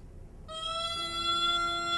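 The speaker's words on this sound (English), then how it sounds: "What you're hearing is a gaida" A reedy Balkan gaida bagpipe drone starts up, then a steady high buzzing tone joins it, sustained and nasal without pause.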